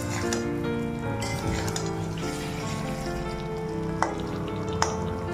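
Fried potatoes sautéing in ghee in a pan, a continuous sizzle under stirring, with a couple of sharp metallic clinks of a spoon against the pan.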